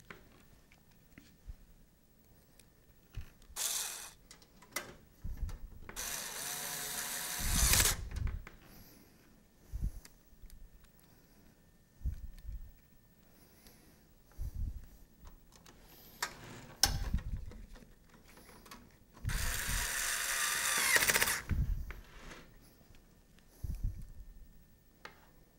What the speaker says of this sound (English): I'm now going to attach the screws.